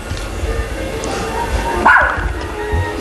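A dog gives a few short barks and yips over a noisy indoor background, with a sharper bark near the middle and people talking faintly around it.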